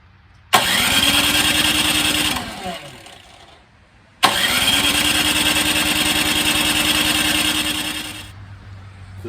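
PowerSmart 26-inch snow blower with a 212cc engine cold starting on choke: two pulls, each catching into a loud, close, steady engine roar, the first dying out after about two seconds, the second running longer before fading.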